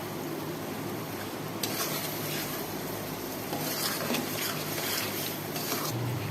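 Masala with chopped green chillies sizzling and frying in a pan for moong dal tadka, a steady broadband crackle with occasional scraping stir sounds, continuous and fairly close.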